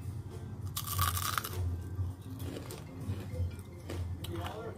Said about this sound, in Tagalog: Banana chips, kamote chips. Crunchy, crispy,